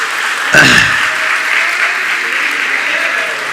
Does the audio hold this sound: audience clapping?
yes